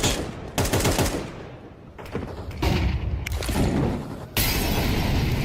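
Rapid gunfire from an esports shooter video game comes as dense bursts of shots that cut in and out across the clip, loud and continuous, with no talk over it.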